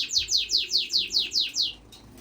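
Gouldian finches in an indoor bird room give a run of eight bright, evenly spaced chirps, clear and close, before falling quiet over a faint room hum.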